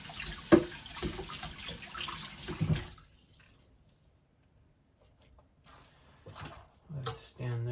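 Tap water runs into a kitchen sink as a knife is rinsed, a close rushing splash at first that stops, leaving a quiet stretch before faint sounds and talk return.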